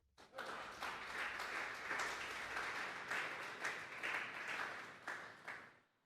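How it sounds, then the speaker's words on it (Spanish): A church congregation at a Sunday afternoon service breaks into applause that swells quickly, holds steady for several seconds, then tapers off. "Gracias por ese aplauso."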